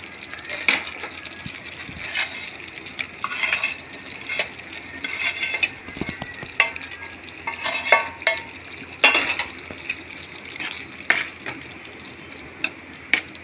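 Fried paneer is stirred into cooked masala in a pan with a spoon, making repeated scraping and clattering strokes over a faint, steady sizzle. The stirring is close, uneven in rhythm and moderately loud, with no talking.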